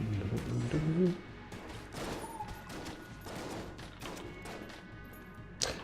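Rapid weapon fire from guns in Enter the Gungeon, bursts of clattering shots over busy game music, with a sharp impact near the end.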